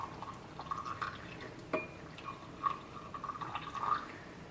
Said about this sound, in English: So now I'm just going to go ahead and pour it into a nice clear cup so you can see how dark and